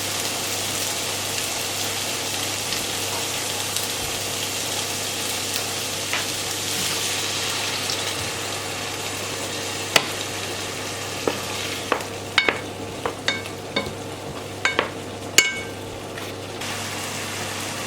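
Cubed potatoes and sweet potatoes fry and brown in a pan with a loud, continuous sizzle. Sharp clacks of a spatula stirring and scraping grow frequent toward the end.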